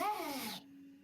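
A single cat meow from the video game Halcyon, close and clear, bending downward in pitch before fading into a quiet background hum.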